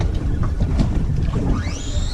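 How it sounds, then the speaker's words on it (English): A rising mechanical whine, a fishing reel's drag screaming as a hooked cobia pulls line out, cuts in near the end over wind and boat noise on a reef off Australia's Sunshine Coast. "Suddenly, I heard my drag screaming."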